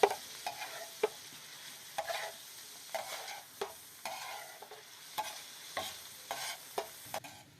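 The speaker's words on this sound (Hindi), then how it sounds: "भूनेंगे अच्छी तरह से मजीद इसको अदरक लहसुन के पेस्ट में।" Ginger garlic paste sizzles and fries in a pan while a spoon scrapes and stirs it in repeated strokes, quiet and close, with no talking.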